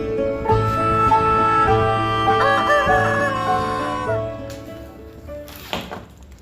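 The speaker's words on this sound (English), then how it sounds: "H for hen." Chicken vocalising: a loud, close, drawn-out crowing call with layered harmonics fades after a few seconds, followed by a brief noisy burst, with no talking heard.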